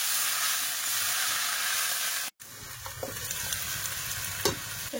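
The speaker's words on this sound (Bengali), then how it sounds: "এবারে গ্যাসের ফ্লেমটা একটু বাড়িয়ে দেবো, দিয়ে এই শাকগুলো সব দিয়ে দেবো। শাক আমি ঢেলে তেল দিয়ে রান্না করবো।" Leafy greens fry in oil in a pan over a raised gas flame, giving a steady close sizzle that cuts out briefly, then returns more softly with scattered stirring clicks.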